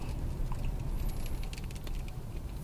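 Rain begins to fall on a car driving the Korat motorway in Thailand, with scattered light drop taps and patter over a steady low road and engine rumble, and no voices.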